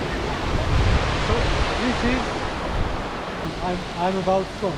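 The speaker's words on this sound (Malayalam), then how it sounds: "ഇവിടെങ്ങനെ ഒരു വെള്ളച്ചാട്ടം വരുന്നുണ്ട്" A steady, broad rush of falling water from a waterfall at the Symphony of Stones basalt columns near Garni, Armenia, fills the air, with faint distant voices and chatter mixed into the constant roar.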